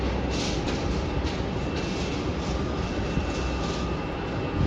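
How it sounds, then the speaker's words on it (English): An Airbus A350 jet departs Melbourne airport with a broad, steady engine roar that holds without a break. "So that is an Airbus A350 going to Nadi in Fiji."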